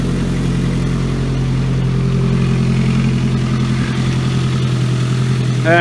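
A Ford Focus idles with a steady, throbbing engine drone, its broken front exhaust flexi pipe adding a loud, rasping rattle close by, with no talk over it.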